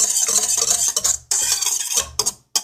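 A whisk clatters rapidly against a bowl while yeast is mixed in for bread, in several bursts of scraping, stirring strokes separated by short pauses, close and fairly loud, with no talking.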